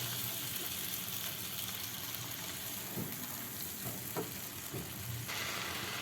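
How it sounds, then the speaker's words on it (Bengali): Tomato paste stirred and fried in a pan for a Bengali katla fish curry, a steady close sizzle with a few light scraping knocks of the spoon, no talking. "আমি টমেটো পেস্টটা খুব ভালো করে ভেজে নিব"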